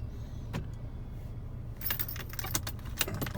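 Car keys jangle as they are pulled out inside a Daewoo Nexia fitted with a StarLine A93 alarm during a remote start, with the engine idling as a low hum beneath a few light metallic clinks.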